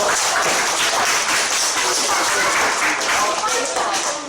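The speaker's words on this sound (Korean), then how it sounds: "박수 주세요" An audience in a university theatre-teaching class applauds, a dense steady wash of many hands clapping throughout, close and fairly loud with no pauses.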